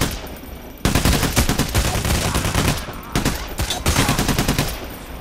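Sniper gunfire rings out in the heist video game Payday: The Heist: loud, dense volleys of shots in sustained bursts, briefly cut by a short pause, with no talking.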